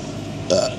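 A single short, close burp rises briefly out of quiet background noise.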